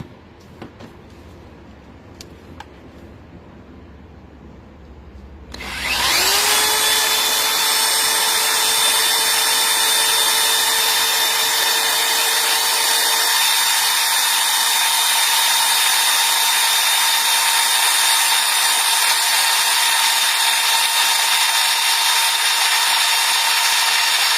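A rotary hammer drill starts after a short quiet lead-in, then runs steadily at high speed during an RPM measurement. The whine is loud, constant and sustained with no talking over it.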